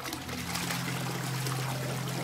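Water trickles and pours steadily from a toilet in the Richard & Alice video game, a soft continuous flow over a low hum.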